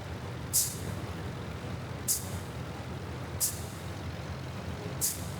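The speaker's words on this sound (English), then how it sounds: "I'm just tapping those brakes to use the differential braking." Brakes on an IL-10 attack aircraft in the IL-2 Korea flight game are tapped during taxiing. Four sharp hissing bursts come at regular intervals over a steady low engine drone.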